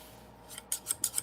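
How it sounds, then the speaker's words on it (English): Sheep shearing scissors cut through paper in four or five quick, crisp snips that build in a steady rhythm, close and clear with no voices. "These are sheep shearing scissors."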